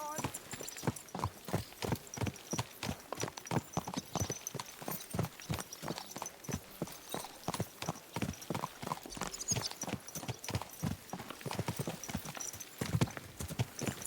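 Steady clip-clopping horse hooves at a brisk, regular trot in Kingdom Come: Deliverance II, close and continuous, with voices talking over them and occasional other game sounds.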